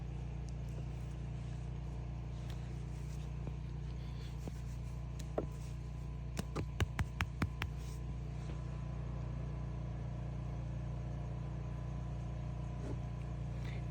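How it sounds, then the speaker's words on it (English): A generator's steady low engine hum drones throughout on an off-grid Vermont homestead, with a short burst of sharp clicks or taps partway through; no voices. "We're running the generator because,"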